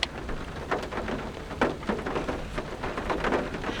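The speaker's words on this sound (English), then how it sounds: "There's a slight breeze inside of my car because of all of the wind and rain that's coming in" Wind and rain blow into a car on a rainy day, a steady broadband hiss with scattered patters and thumps of drops striking surfaces close by.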